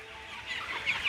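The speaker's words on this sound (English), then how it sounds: "This chicken has never been pet before, and she loves it." A hen clucking softly while being petted, a short low murmuring cluck close by with no other sounds.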